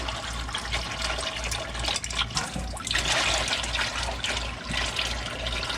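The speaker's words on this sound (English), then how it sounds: "There we go, starting to drain." Fluid pours steadily from the pan of a 1978 Ford F100, a continuous close splashing trickle into a container over a low steady hum.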